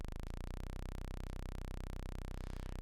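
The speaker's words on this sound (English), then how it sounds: "So what you're hearing is a sawtooth wave coming out of the VCO." A DIY mki x es.EDU voltage controlled oscillator puts out a low sawtooth wave, a steady buzzing drone that is continuous and unbroken throughout, faint in level.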